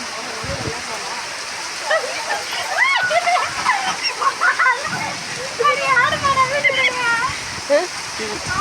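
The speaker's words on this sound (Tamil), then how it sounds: "இப்போ பாருங்கள் மழை செம்மையாக அடிக்குது" Heavy rain pours down in a steady, loud wash of hiss and splatter, while someone talks almost continuously over it.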